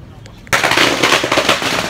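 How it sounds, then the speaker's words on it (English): Firecrackers and fireworks bursting in Thailand, a sudden loud onset followed by a dense, continuous crackle of rapid pops like machine-gun fire, with no pauses and faint sounds before it starts. "a lot of fireworks, a lot of firecrackers going on here."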